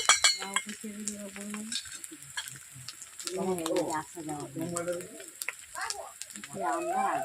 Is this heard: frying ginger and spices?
yes